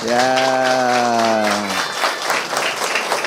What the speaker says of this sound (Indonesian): Tepuk tangan untuk Pak Guru dong.